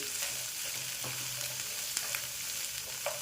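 Mixed vegetables sauté in hot oil over a high flame for a veg kolhapuri, with a soft, steady sizzle. Light scrapes and taps of stirring come through now and then. There is no talk.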